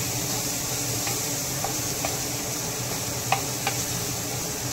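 Garlic, ginger and cumin paste sautés in a hot pan while being stirred for an onion-garlic tempering. A steady, soft sizzle and hiss runs throughout, with a few faint scraping clicks.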